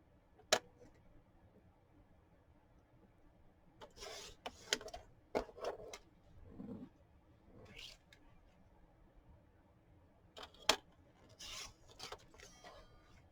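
Scissors trim a Gelli-printed paper envelope in short bursts of crisp rasping snips and rustles, close and fairly quiet, separated by pauses of near silence.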